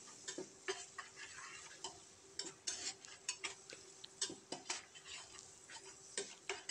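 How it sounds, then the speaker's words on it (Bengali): Onions stirred with coriander powder in a pan for a Bengali village-style pui mituli dish, with a steady run of scraping, ticking spoon-on-pan strokes and a faint sizzle underneath. "দিয়ে এটাকে আমরা সুন্দর করে একটু নাড়িয়ে পেঁয়াজটাকে একটু হালকা বাদামি করে নেব।"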